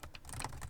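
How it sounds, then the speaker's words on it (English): Quiet, close keystrokes tap out in a quick irregular patter on the detachable keyboard of a Lenovo Idea Tab Plus 12.1 Matte Edition tablet, with no talking. "this I'm pretty sure already is at the size where typing should be pretty comfortable"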